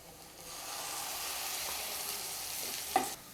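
Tomato added to well-cooked sautéed onions frying in a pan for an egg chilli fry gives a steady, close sizzle, with a sharp stirring clink near the end.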